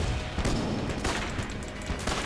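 Rapid bursts of gunfire from a tank enemy in Enter the Gungeon, a dense, steady barrage of overlapping shots with a few louder blasts standing out.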